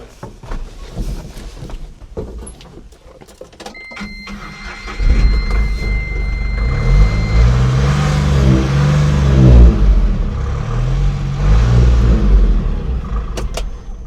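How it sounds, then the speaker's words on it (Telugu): A used Ashok Leyland Bada Dost light commercial truck cranks over with a few clicks, catches, and settles into a loud, steady idle. Its engine then revs up and down twice, close by. "ఒకసారి మీకు ఇంజన్ కూడా స్టార్ట్ చేసి చూపిస్తాను"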